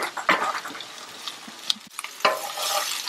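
Onions and sausage fry in a pan with a steady, close sizzle, broken by the scrape and clatter of stirring.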